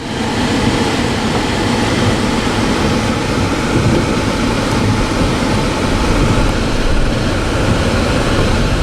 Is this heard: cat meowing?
no